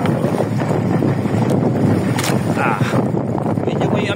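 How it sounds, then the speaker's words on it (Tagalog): Steady, loud wind buffets the microphone at sea aboard a fishing boat, a constant rushing roar with water noise and voices talking underneath. "Medyo may amihan pa rin ha."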